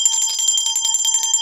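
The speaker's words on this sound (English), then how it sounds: "Y'all need to ring that bell." A bicycle bell rings in a quick, continuous trill of bright metallic dings, loud and close, with no voices.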